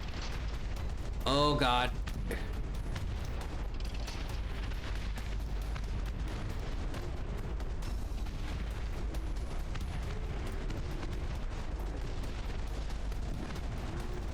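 Artillery firing on the move in Dust Front RTS, deep booms and rumbling blasts under a constant battle roar, with a person talking over it.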